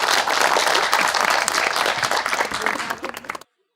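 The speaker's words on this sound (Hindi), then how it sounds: "तालियां जी" A studio audience at a talk show bursts into dense, sustained clapping that fills the room for about three seconds, then cuts off abruptly into silence.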